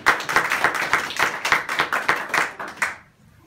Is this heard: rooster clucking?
no